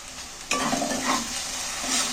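Tomato masala fries in oil with a steady sizzle, a sudden scraping stir of a spatula in the pan at the half-second mark, then continued close, busy frying.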